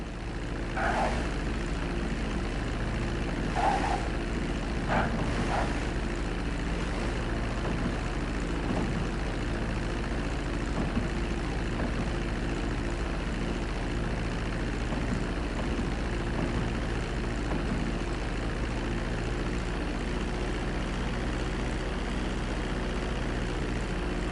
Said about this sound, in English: Start reducing the plane's altitude gradually so you're just above the runway as you approach.